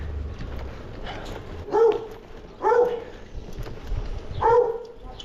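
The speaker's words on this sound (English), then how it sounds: "as you could hear, dogs loves me" Dogs bark near Salakos on Rhodes, three loud, spaced barks from fairly close by over a low outdoor background.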